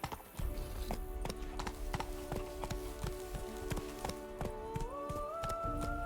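Roach the horse galloping in The Witcher 3, with a steady rhythm of close hoofbeats under sustained game music.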